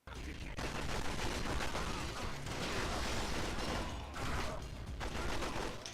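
Gunfire in the Agent Under Fire shooter game, close-range aimed shots, sounds as dense, loud, continuous shooting and clatter through most of the span, with a brief lull near the middle and a faint voice beneath.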